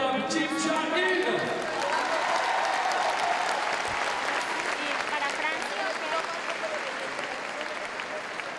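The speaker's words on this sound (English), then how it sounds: "Applaudissements pour la Coréenne, l'incroyable Kim Jong-il" Sustained audience applause fills a large arena at the Paris 2012 IFSC Climbing World Championships women's bouldering event, greeting a Korean climber. The clapping is dense and loud, with cheering and crowd voices mixed in throughout.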